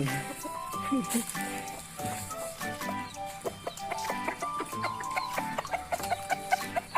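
Hens cluck in short, repeated bursts over a busy farmyard background, with people talking nearby throughout.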